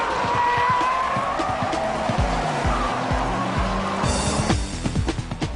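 A Honda NSX-R races on a track, its engine note rising and falling through gear changes amid squealing tires and a closer, rougher burst of engine noise at the end.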